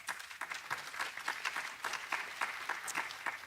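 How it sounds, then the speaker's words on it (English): An audience at a global student summit applauding to welcome a student panel, a steady dense wash of clapping from a moderately sized crowd lasting a few seconds. "please welcome them with a big round of applause"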